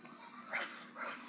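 A person imitates a dog running around barking, producing two short, breathy bark-like bursts close to the microphone, kept deliberately quiet.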